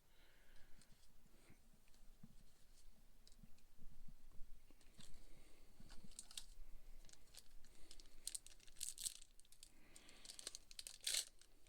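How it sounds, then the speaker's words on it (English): A Digimon TCG Sinister Order booster pack is torn open up close, with faint, steady crinkling foil and rustling that grow into sharper tearing near the end, with no voices. "Yep, I am terrible at opening these packs"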